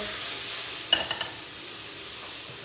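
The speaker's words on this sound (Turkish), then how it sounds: "Biberleri aldığımız gibi domatesleri atıyoruz." Tomatoes and peppers fry in a pot with plenty of oil, giving a steady soft sizzle with a few brief clinks of stirring near the middle.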